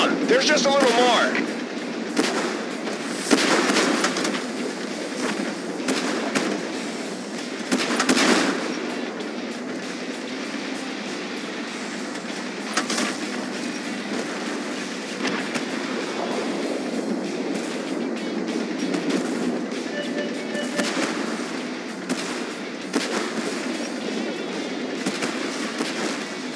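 Tank cannon and artillery fire in the Tank Force tank battle game, repeated booming blasts over a constant rumbling engine drone, with voices speaking over the combat.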